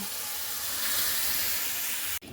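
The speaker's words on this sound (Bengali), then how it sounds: "মটরগুলোকে দিয়ে দিচ্ছি" Boiled peas go into a pan of frying potatoes and spices for Bengali ghugni, raising a steady, close hiss of steam and sizzle that ends with a brief knock near the finish.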